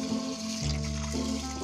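Tap water runs steadily into a measuring cup on a kitchen sink while rice is prepared, a continuous close gush with a shifting pitch as the cup fills, no talking.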